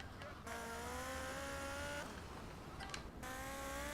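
Dirt bike engines roar in a street race in Grand Theft Auto Liberty City Stories, a sustained buzzing whine that rises and falls in pitch as the bikes accelerate, loud and continuous throughout.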